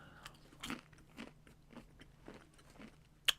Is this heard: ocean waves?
no